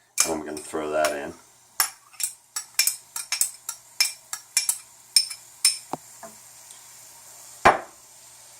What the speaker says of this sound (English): So here's one of our white onions, and I'm going to throw that in.